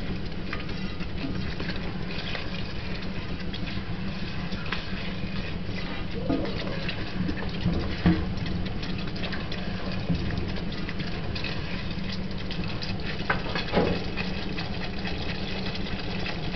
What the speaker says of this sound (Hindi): ये योगर्ट भी शामिल कर लिए और अच्छी तरह से इसको हिला लेती हूँ मैं